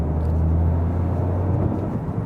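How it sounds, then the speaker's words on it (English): Inside a 2025 Toyota GR Yaris manual on the move, loud road noise fills the cabin as a steady low droning rumble with tyre roar, constant and close, with no talk. "the road noise in here is, yeah, it's a lot"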